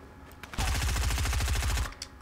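Submachine gun fire in the video game Fortnite: a loud, rapid burst of many evenly spaced shots lasting over a second, close and dominant, with no talk over it.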